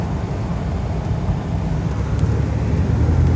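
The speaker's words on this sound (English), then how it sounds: "Car goes down the road real nice" A 1991 Pontiac Firebird with its original exhaust cruises down the road at about 50, a steady low engine drone blended with tire and wind roar, constant and fairly loud from inside the car.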